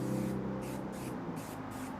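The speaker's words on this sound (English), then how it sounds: "We'll just start by shaking up the bottle and spraying it directly onto the tire." Tire cleaner is sprayed from a trigger bottle onto a car tire in four quick, evenly spaced hissing bursts, close and fairly soft, over a low background hum.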